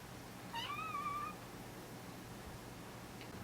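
A single quiet, drawn-out cat meow rising then falling, heard alone against a faint steady background hum.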